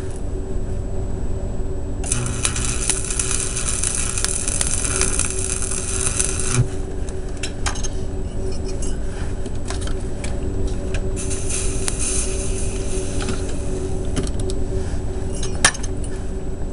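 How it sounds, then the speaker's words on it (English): Stick welding with a rod on a blue scooter, a steady close crackling sizzle with bursts of bright hiss that start and stop as the arc is struck and broken, alone without talk. "Normally it doesn't stick while I'm welding, but for some reason it's sticking."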